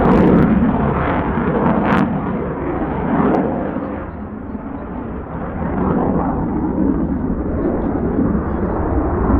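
Broad roaring rumble of a Boeing F/A-18 Hornet fighter jet passing overhead at roughly 500 knots, loud and sustained with swelling and fading surges across the whole stretch.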